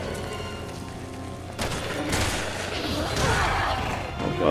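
Gunfire in Resident Evil 6, a dense burst of shots and impacts building into loud crashing and booms against a tense game soundtrack, with a voice briefly heard.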